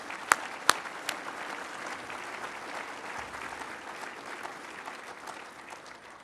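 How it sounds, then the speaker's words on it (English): Audience applause at a 2005 fundraising dinner for military members and families in Minnesota, a few sharp claps standing out at the start before a steady, moderately distant wash of clapping that carries on evenly. "Let's give another round of applause"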